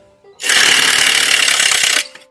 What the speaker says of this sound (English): I'm just taking down some of these boards I had up here for props.